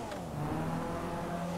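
A sports-tuned Blista car in GTA V revs its engine steadily and loudly, a continuous close engine drone with rising harmonic whine and no pauses.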